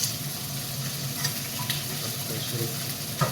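Khausi soup paste frying in a pan, with a steady close sizzle and occasional stirring scrapes.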